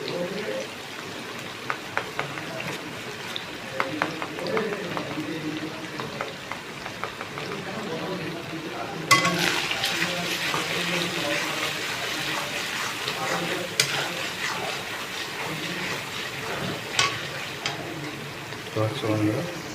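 Ginger and garlic fry in a pan with a steady low sizzle, broken by scattered stirring clinks and scrapes; a voice talks over the cooking.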